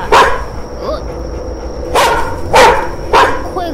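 A dog barks loudly several times in sharp separate bursts, close by, over steady background noise in a room.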